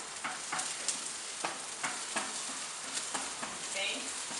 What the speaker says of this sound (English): keep stirring your onion.